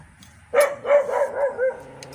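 A dog barks several times in quick succession at a moderate distance, the yips and barks standing out clearly against a quiet home background with no talking.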